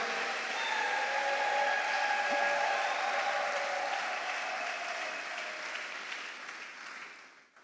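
A church congregation at a Sunday worship service applauds and cheers loudly, with dense steady clapping and whistle-like shouts running throughout before fading away at the end.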